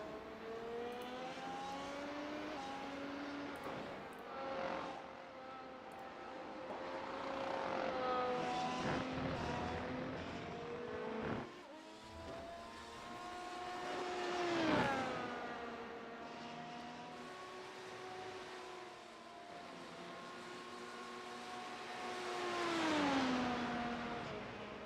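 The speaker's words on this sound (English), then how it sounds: "I will say the cars still sound pretty nice, even considering the fact that they're V6 turbo hybrids." V6 turbo hybrid Formula 1 cars in a racing video game at the Spanish Grand Prix, high-pitched engine whines rising and falling through gear changes as several cars pass, steady and continuous throughout.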